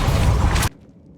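A Depulso spell cast in Hogwarts Legacy: a loud, dense whooshing burst lasting under a second that cuts off abruptly into near silence.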